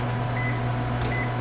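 Beeps from the control panel of a kitchen microwave oven, two short tones about three quarters of a second apart over a steady low appliance hum, close and alone.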